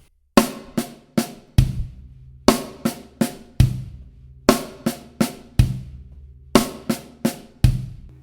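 Drum kit pattern of accented right-hand strikes, soft left-hand ghost notes and kick drum, played in repeating grouped bursts with sharp attacks and short decays, close and alone.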